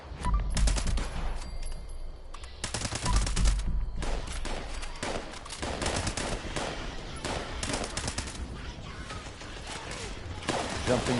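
Dense gunfire in Fallout 76, with rapid automatic bursts and single loud shots coming in clusters throughout, some near and sharp, others more muffled, with no talk.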